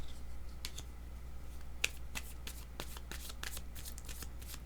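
A deck of tarot cards is shuffled close up for a reading, giving quiet, quick riffling snaps and flicks in a steady rhythm against a soft background hum.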